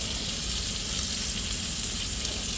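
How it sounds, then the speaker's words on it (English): Steak sizzling in a hot pan inside a semi truck cab, a dense, steady frying hiss that stays close and loud throughout with no talk. "So see this smoke and sizzle?"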